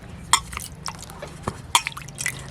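Water dripping and splashing while cut brinjal is washed, a few close, scattered drips and small splashes.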